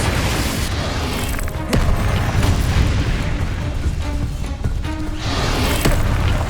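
Confringo blasting spell explosions in Hogwarts Legacy boom repeatedly, loud, rumbling bursts layered in a heavy, continuous battle din with sharp cracks punctuating the roar.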